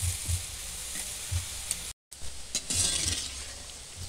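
Chana dal frying in boiling oil for crispy homemade dalmut gives a steady, dense sizzle close up, broken by one very brief dropout.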